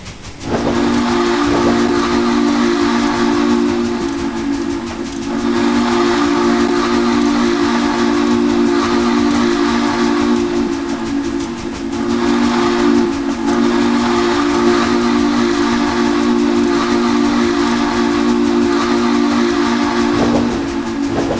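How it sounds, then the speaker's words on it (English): Texas & Pacific 2-8-2 H2 steam locomotive whistle in Trainz 2019, a loud sustained chime blowing nearly continuously for over twenty seconds with brief dips, over steady steam hiss. "oh, that is such a good sounding whistle"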